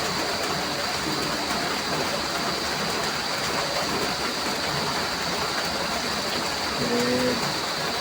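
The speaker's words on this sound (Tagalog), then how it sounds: "ang pagpasak ng ulan sa bubong ng bahay" Steady rain pours onto a house roof in a continuous dense hiss that stays even and fairly loud throughout, with no voices and only a faint tonal hum in the background.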